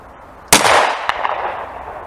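A single sharp gunshot from a 2-inch snub-nosed revolver firing Underwood 125-grain .38 Special +P jacketed hollow-point ammunition, loud and close, with a reverberant tail and a faint second crack about half a second later.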